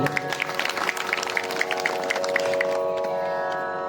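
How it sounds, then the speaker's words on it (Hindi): Scattered audience clapping at a Hindi religious discourse on Shiva, sharp claps over a steady background hum and tonal drone, thinning out toward the end. "ताली बजना चाहिए"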